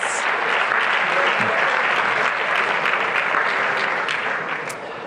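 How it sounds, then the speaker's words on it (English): Sustained applause from an audience at a California event honoring Governor Gavin Newsom and David Gellis, a dense, steady wash of clapping that fades slightly near the end. "One more round of applause, please, for Governor Gavin Newsom and David Gellis."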